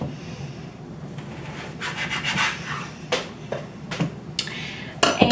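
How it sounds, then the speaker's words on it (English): Knife trimming fat from beef for Philly cheesesteak on a cutting board, with quiet rubbing strokes and a few sharp scraping taps, close and fairly soft. "I'm just going to trim off any large chunks of fat that I may notice"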